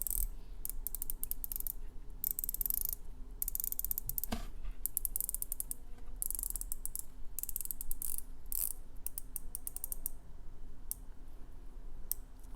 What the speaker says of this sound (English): It's a really great bezel action, but I've got to unscrew the crown to get to it